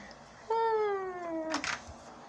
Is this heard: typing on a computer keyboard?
no